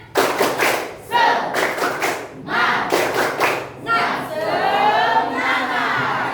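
A group performs a rhythmic spirit clap during a classroom ice-breaking session, several bursts of loud unison claps with shouted voices between them, ending in a sustained stretch of mixed clapping and crowd noise.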